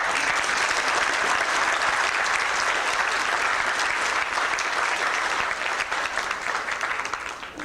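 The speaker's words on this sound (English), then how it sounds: "I think she really deserves a big round of applause." A convention audience at a 1989 Three Stooges fan gathering breaks into sustained, dense applause, loud and continuous, fading slightly at the end.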